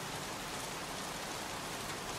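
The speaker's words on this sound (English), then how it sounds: "Jeez, won't this rain ever let up?" Steady rain pouring in the video game Heavy Rain, a dense, even hiss of falling water that stays constant and moderately quiet throughout, with no voices.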